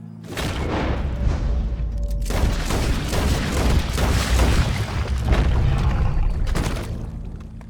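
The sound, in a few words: gunshot in the video game Red Dead Redemption 2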